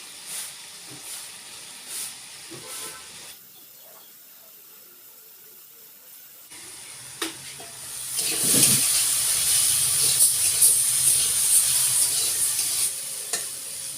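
Cumin powder, chilli powder and turmeric sizzling and being stirred in a pan, a quiet stretch in the middle, then a louder, steady hiss of frying toward the end.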